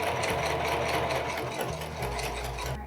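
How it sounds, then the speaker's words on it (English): Sewing machine stitching an elastic waistband onto a skirt, a steady fast mechanical whir and needle chatter running continuously and close. "now we're just gonna sew the waistband to the skirt, stretching as we go to make it fit"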